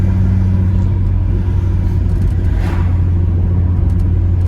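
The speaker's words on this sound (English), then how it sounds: "It's a proper V5 noise." A steady, deep VR5 engine drone with sports exhaust from inside a moving Mk4 Volkswagen Golf, low rumbling and constant with a slight rise partway through, no voices.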